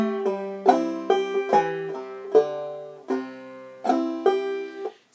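A clawhammer banjo picks a line of the fiddle tune Arkansas Traveler, bright plucked notes struck in a bouncy rhythm with ringing overtones and quick pull-offs, played close and alone.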